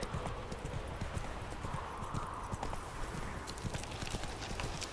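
Horse hooves galloping in The Witcher 3, a rapid, steady clip-clop rhythm of hoofbeats running continuously, fairly faint and close with a muffled rumbling background.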